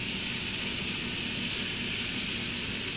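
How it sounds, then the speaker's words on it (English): Rice frying in a pan for shrimp paella makes a steady, bright sizzle and hiss with faint crackling pops that runs evenly throughout. "we're just going to give that a stir as we watch the rice pop all over the place"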